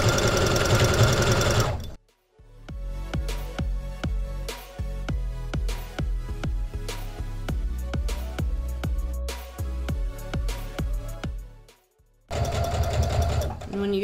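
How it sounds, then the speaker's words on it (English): Sewing machine back-stitching a seam on a shark-shaped stocking, with a steady rapid rhythmic stitching rattle close up, framed by a person talking before and after. "now you'll want to make sure that you are back stitching when you are stitching"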